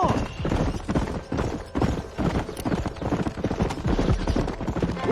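Horse hooves pound at a fast gallop in Red Dead Redemption, a dense, close, rhythmic drumming of hoofbeats throughout with faint talk underneath.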